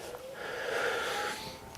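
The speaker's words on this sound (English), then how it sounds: "Sorry about breathing so hard." One long, strained breath is drawn in and pushed out hard during a yoga flow, wheezy and close, alone with no talk.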